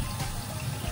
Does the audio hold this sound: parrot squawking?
no